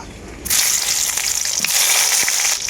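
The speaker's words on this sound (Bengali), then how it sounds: "বেগুনগুলো লম্বা লম্বা করে কেটে নিয়েছিলাম বেগুনগুলো ভেজে নেব" Long strips of eggplant hit hot mustard oil in a wok, setting off a sudden loud sizzle that holds steady and close, with small crackles and a stir.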